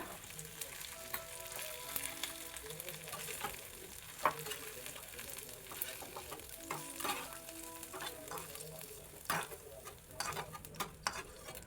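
Potatoes frying in oil for a Kerala-style prawn roast, a soft steady sizzle with occasional stirring clinks and scrapes, fairly quiet and without speech.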